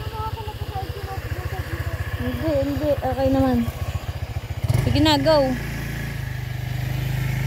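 Motorcycle engine idling nearby with a steady, rapid low putter, while people talk over it and a louder voice cuts in partway through before the engine settles again.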